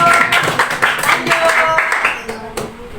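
A classroom audience of students claps together at a teacher's prompt during a school lesson, a dense steady patter of many hands, with some voices and chatter mixed in.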